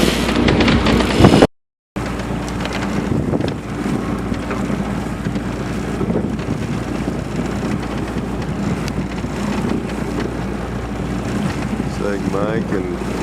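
Sailboat under way near Catalina Island on a light northwest breeze as the jib goes up, steady wind and water wash with hull noise throughout, a brief dropout near the start, and faint voices mixed in.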